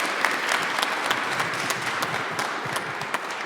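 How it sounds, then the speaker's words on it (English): Audience applause for a panel of speakers at a congressional briefing, dense steady clapping from a crowd that holds at an even level throughout without dying down. "How about a round of applause for our panelists?"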